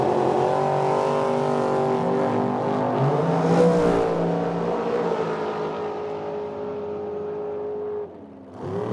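A dragster roars down the drag strip at a Medicine Hat, Alberta summer drag race, its engine a loud, sustained blast that rises in pitch as it accelerates, then drops abruptly near the end as it lifts off.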